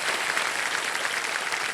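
A studio audience on the Indian quiz show Kaun Banega Crorepati breaks into steady applause, a dense, even wash of clapping that holds for the full short stretch with no speech on top.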